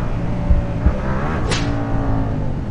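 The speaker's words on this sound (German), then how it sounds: "Oh, mein Motorrad ist ausgegangen." A motorcycle engine runs on a street with a steady, fairly close mechanical hum and a few brief thumps, lasting a few seconds with no speech.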